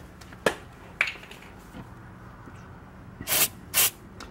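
Heavy duty silicone lubricant sprayed onto Kia Soul rear brake parts in short hissing bursts: two quick sprays early, then two longer blasts near the end, close and fairly quiet.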